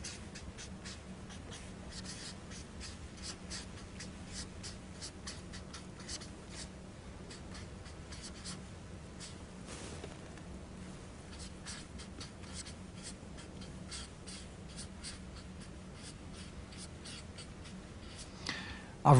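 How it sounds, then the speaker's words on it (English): Pen scratching steadily across paper while a maths expression for partial fractions is written out by hand, a faint, continuous soft scraping with small stroke-by-stroke pulses and no talking. "I'm just going to write this expression out again."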